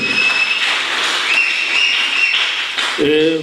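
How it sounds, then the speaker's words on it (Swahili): A church congregation in Lare greets viewers with sustained applause and high, trilling ululation, loud and continuous, with a voice breaking in at the end. "Tukaribishe mtazamaji wetu kwa makofi, sangwe na vigelegele"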